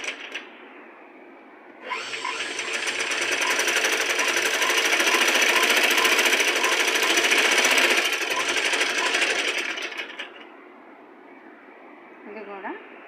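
A sewing machine stitches invisible piping, its loud, steady motor whir running for about eight seconds, with a quieter hum before and after.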